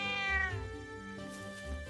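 A cat meows in the video game Trails of Cold Steel, one clear, near, drawn-out cry that falls in pitch, followed by soft game music and ambience.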